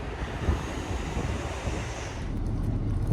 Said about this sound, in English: You guys probably don't hear a word I'm saying in all this wind.